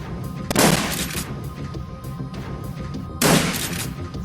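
Gunfire in the Shadowrun: Dragonfall video game sounds as two loud, close bursts about three seconds apart, each a harsh crackling blast over quieter background sound.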